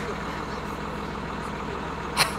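A snowcat's engine idles with a low, steady rumble close by as it starts to move, with a brief sharp hiss near the end.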